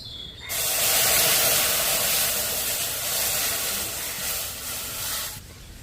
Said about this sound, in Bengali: আমি এখানে পাঁচশো গ্রাম গরুর দুধ নিয়েছি দিয়ে দিচ্ছি কড়াই